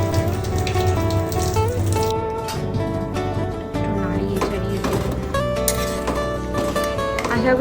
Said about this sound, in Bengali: তাই আমি জলটা আমার মতো করে একটু বেশি দিচ্ছি